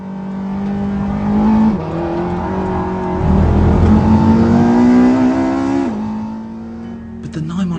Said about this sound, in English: driving a new 911 Turbo S, by the way, and driving it quite hard